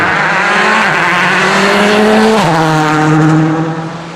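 A Mitsubishi Lancer rally car at the 2007 Monte Carlo WRC revs hard nearby, its engine climbing in pitch, dropping sharply at a gear shift, then climbing again before fading slightly.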